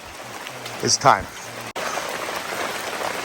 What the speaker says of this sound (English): this big torrential downpour came upon us